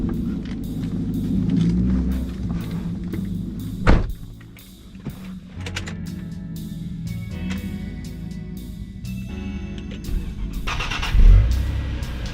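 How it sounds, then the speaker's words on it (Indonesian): Nissan Teana J31 sedan driving, a steady broadband road and engine rumble with a couple of brief thumps, heard from inside the cabin and continuous throughout. "gue mau cobain langsung bagaimana sih impresi berkendara daripada mobil Teana J31 ini"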